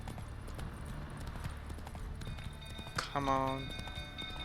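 Roach the horse galloping in The Witcher 3, steady clip-clop hoofbeats running under a voice, with a brief whinny-like tonal burst near the end.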